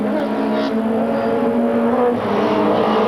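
BMW touring car driven by Ortelli racing in the 1995 French Supertouring round at Paul Ricard, a steady loud engine drone held at high revs throughout, close and continuous with no pauses.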